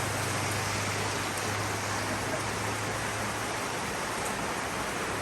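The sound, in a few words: heavy rain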